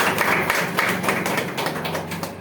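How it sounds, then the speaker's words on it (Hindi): A meeting audience bursts into loud, steady clapping close by, a dense run of overlapping hand claps with no talking over it. "4-5 तो एक बार उनके लिए जोरदार तालियां हो।"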